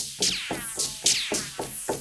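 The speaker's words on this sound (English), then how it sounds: "It's just kind of random, almost sounds like gunshots." A Waldorf Blofeld synth effects patch, "Q Wars", fires bursts at random intervals, each a sharp gunshot-like crack with a descending hiss, about six hits in quick, uneven succession.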